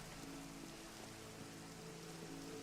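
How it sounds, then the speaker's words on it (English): Steady rain pours down in the Minecraft video game, a dense continuous patter that fills the scene evenly with no pauses and no talk over it. "it's also peeing down with rain in here too"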